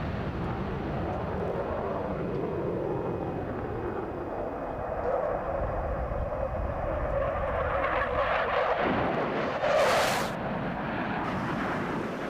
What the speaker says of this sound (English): they use the FA-18 fighter to its full aerobatic capabilities